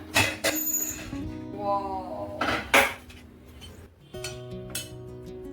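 Metal clanks and rattles of a pressure cooker lid being handled and lifted open, several distinct clinks with ringing tones, close and fairly loud.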